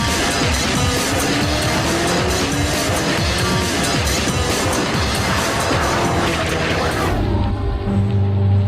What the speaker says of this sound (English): The 2011 Bugatti Veyron Super Sport gives you just that.